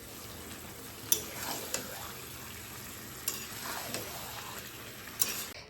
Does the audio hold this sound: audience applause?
no